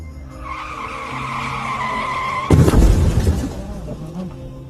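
A vehicle pulls away with a sudden loud tire skid and screech, close by, after a steady engine hum, the noise then fading off.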